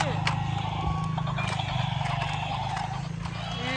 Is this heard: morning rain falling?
no